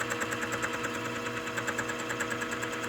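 A boring head cutting an air compressor connecting rod on a machine, giving a steady rhythmic mechanical whir with a regular periodic chatter, moderately quiet and without talk.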